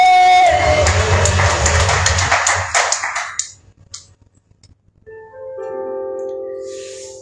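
A congregation at a church service claps loudly and steadily, then the applause fades out over a few seconds, leaving soft sustained keyboard chords playing alone.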